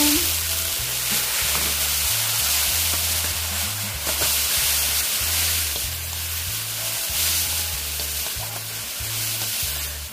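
Water mimosa stir-fried with chili and garlic in a pan of well-heated oil, giving a loud continuous sizzle with steady hiss and occasional stirring scrapes, close up throughout.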